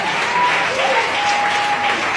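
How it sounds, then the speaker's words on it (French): A church congregation at an evening seminar session breaks into loud, sustained applause acclaiming the Lord, steady, dense clapping filling the hall for a couple of seconds, with a faint tone running underneath. "Acclame très fort le Seigneur pour sa vie."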